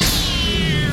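A cartoon cat lets out a single loud, drawn-out meow with a wavering, slightly falling pitch, heard over a busy background.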